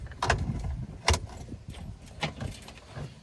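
Keys jingle and the ignition clicks on in a 1936 coupe fitted with a new ignition switch: a few sharp metallic rattles near 0.3, 1.1 and 2.3 seconds, close and moderately loud, over faint background noise.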